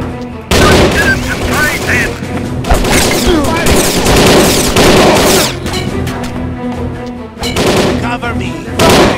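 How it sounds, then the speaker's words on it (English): Heavy automatic gunfire in the shooter game El Matador, loud sustained machine-gun bursts broken by brief pauses, close and dominant with shots echoing through a firefight. "Opening fire!"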